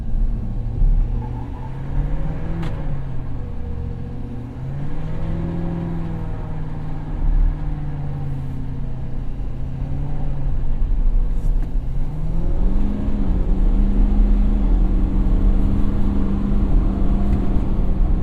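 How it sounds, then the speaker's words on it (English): A 2017 Ford F-250 Super Duty 4x4 pickup revs its engine in a rising, wavering roar as it tries to spin its tires, heard from inside the cab, loud and continuous with a deep rumble that swells toward the end. "We're going to see if we can light the tires."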